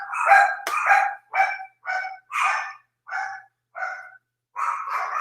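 Dogs barking at a steady pace, about nine close, clear barks in a row with short pauses between them and no other sound.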